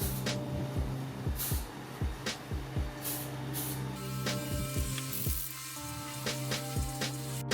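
Miniature models held on a prime stick are spray primed: an aerosol hisses in short, repeated bursts over a steady background hum, close and fairly loud.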